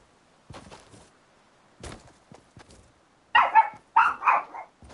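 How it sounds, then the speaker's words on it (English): Lexi the dog barks at passing cars: a few soft, scattered yips first, then three loud, close barks in quick succession near the end. "Lexi, shut up, you stupid dog. I know you like barking at cars."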